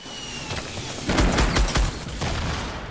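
Gunfire in Fortnite Battle Royale: a rapid burst of several loud shots packed together mid-clip, followed by another shot a moment later, with no talk.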